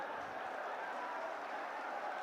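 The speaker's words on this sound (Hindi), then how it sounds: "जोरदार तालियां बजाएं आप सभी," A large crowd at a Rahul Gandhi rally in Nuh, Mewat, Haryana claps continuously, a dense, even wash of applause heard from a distance with no break.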